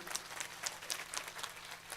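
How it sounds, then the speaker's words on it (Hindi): An audience at a Shrimad Bhagavat Katha religious discourse applauds, heard as a faint, scattered patter of separate claps with quiet gaps between them over about two seconds. "जोरदार ताली दियो।"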